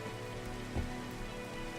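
Steady rain falls in a Minecraft game world, a continuous soft patter on surfaces with one slightly louder drop, and no talk.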